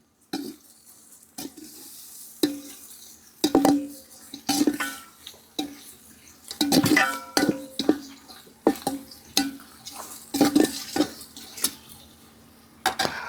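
Mint and coriander leaves frying in a pan with vegetable pieces for bagara rice: a steady close sizzle broken by repeated scraping and clinking of a spoon stirring against the metal pan.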